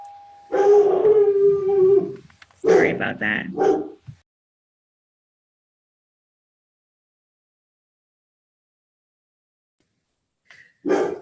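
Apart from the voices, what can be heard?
dog howling and barking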